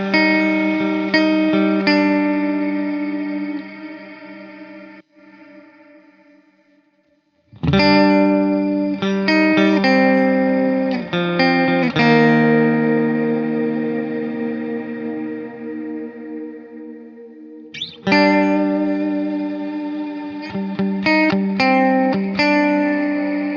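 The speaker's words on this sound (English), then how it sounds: "So the next one is a particle verb, and this control handles the condition." A Line 6 DL4 MkII delay pedal set to its particle verb effect processes guitar chords into shimmering, granular reverberated washes that swell and decay, with abrupt restarts and sustained tonal tails, no voices.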